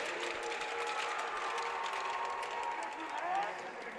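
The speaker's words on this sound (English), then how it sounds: "Oh, we got a rowdy crowd here." A packed, rowdy crowd at a high school boys' Division 1 hockey quarterfinal fills the rink with a dense, continuous roar of chatter and clatter, steady and fairly loud throughout.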